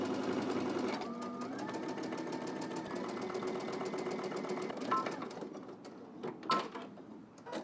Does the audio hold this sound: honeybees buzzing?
no